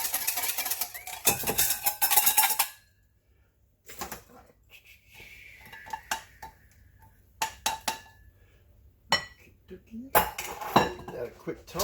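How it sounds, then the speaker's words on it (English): A salad tossed in a bowl, with clinks and scrapes of utensils against the dish in quick bursts, a pause, then more tossing and clatter, close and fairly loud. "For the salad, quick toss."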